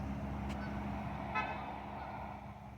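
Car horn on a road, two short faint toots heard from a distance over the steady rumble of a running vehicle.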